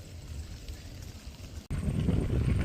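Wind by Lake Ontario buffets the microphone in low, rumbling gusts, growing louder and rougher partway through, with no voices.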